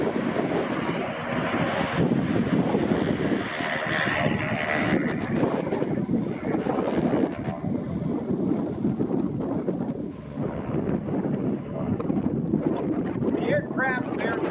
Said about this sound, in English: the advanced trainer is what we're seeing here on the takeoff roll